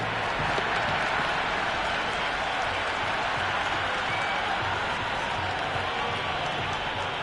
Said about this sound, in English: The crowd are really getting quite raucous